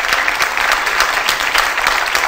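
Steady, dense clapping from a studio audience, loud and continuous throughout.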